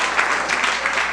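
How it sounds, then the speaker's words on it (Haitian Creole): Audience applause at a talent show, a dense steady wash of clapping filling the whole moment at close range with no voices over it. "Applaudis encore, s'il vous plaît."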